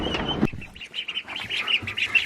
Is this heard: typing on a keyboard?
no